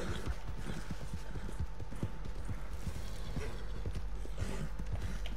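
Horse hooves clip-clopping at a camp in the video game Red Dead Redemption 2: a steady, rapid run of soft hoof beats over a constant low background hum, with no talk.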